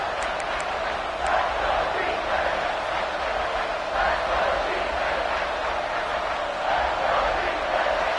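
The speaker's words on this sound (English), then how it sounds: "Third down and the crowd really getting into it" A college football stadium crowd roars on third down, a dense, sustained wall of cheering that swells in waves, with talking faintly mixed in.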